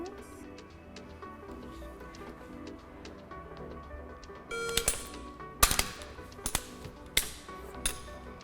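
Several sharp rifle shots from a Sig MCX at a shooting drill, spaced irregularly in the second half, loud and close over a steady background hum with brief talk nearby.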